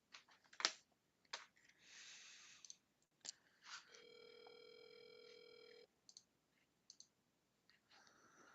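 A phone call gets dialed with short clicks and button presses, then a steady tone rings out for about two seconds, followed by more light clicks, faint and close, with no voices.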